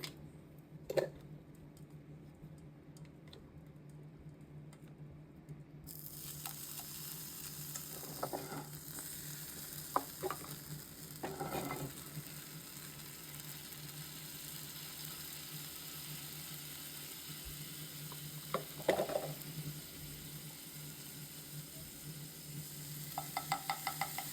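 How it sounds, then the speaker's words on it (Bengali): Butter melting in a hot pan gives a steady, faint sizzle that runs throughout, with a few scattered clicks and knocks of cookware. No one speaks. "এই যে আমাদের প্যানটা গরম হয়ে গেছে, এখন আমরা দিয়ে দেবো বাটার"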